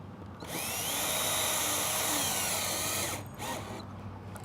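A power drill drives screws into I.Dekk composite decking boards, one steady whirring burst lasting about three seconds, then a brief pause and a shorter second run, loud and close with no talk.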